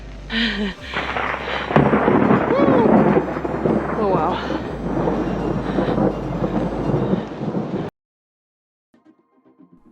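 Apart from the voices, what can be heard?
thunder from an approaching storm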